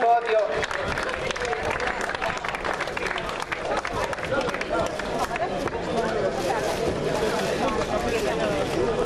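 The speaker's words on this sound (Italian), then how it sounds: "Un applauso ai tre atleti protagonisti del podio" Steady crowd applause for the three podium athletes at the Trofeo Achille Grandi awards in Sant'Angelo di Gatteo, dense outdoor clapping mixed with crowd murmur and a voice over the sound system.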